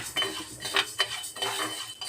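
A metal spoon stirs and scrapes urad dal as it roasts in a pan, giving a close, continuous clatter and rattle of lentils against the metal.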